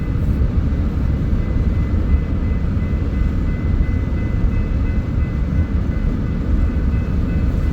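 A westbound freight train rolls past at a rail yard after a crew change, its loud steady rumble and rail drone filling the whole stretch without letup, close and continuous.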